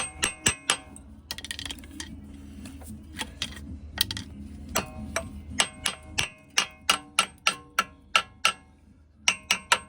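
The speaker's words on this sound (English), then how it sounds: "give it a little tap, and then you get to see all the crud fall out" A Fiat Ducato X250 front brake disc is tapped with a hammer to knock out built-up crud, a close series of sharp metallic knocks that come in quick bursts and then a steady, evenly spaced run of strikes.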